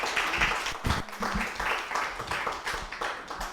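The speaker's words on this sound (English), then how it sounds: "let's give them another round of applause" Audience applause at a faith and work forum, a steady wash of clapping from a seated crowd, moderately loud and unbroken for a few seconds.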